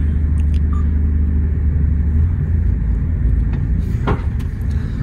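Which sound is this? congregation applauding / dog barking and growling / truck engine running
truck engine running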